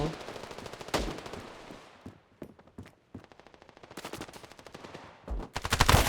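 Gunfire in the mobile shooter Standoff 2, with rapid automatic bursts and single shots in uneven clusters, loud and close, separated by quieter gaps.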